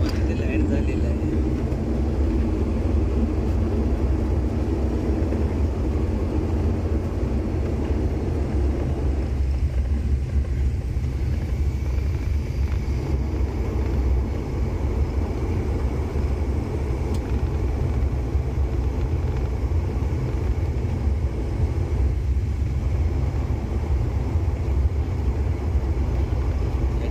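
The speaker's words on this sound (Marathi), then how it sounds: "या ठिकाणी आपलं विमान आहे ते लँड झालेलं आहे" A passenger airplane just landed at Sindhudurg airport fills the cabin with a loud, steady low engine rumble and drone, while people talk over it.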